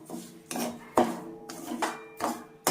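A spoon stirs wheat flour into hot ghee in a metal pot for a winter rabdi, giving six evenly spaced scraping strokes against the pot, close and moderately loud, with no talking.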